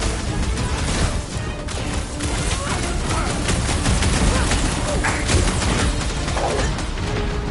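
Gunfire in the Guardians of the Galaxy video game, sustained bursts of shots and crashing impacts over a loud, busy battle mix, with voices speaking over the action.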